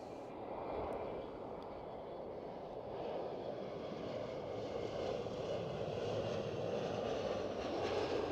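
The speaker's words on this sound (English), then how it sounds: "KLM Cityhopper E175." A KLM Cityhopper Embraer E175 jet at Schiphol Amsterdam makes a distant, steady engine rumble that swells slightly louder toward the end.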